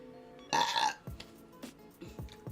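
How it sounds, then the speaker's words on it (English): A single loud, croaky burp up close, followed by a few soft mouth and breath sounds in a quiet room. "Sorry, I burped. I didn't mean to burp."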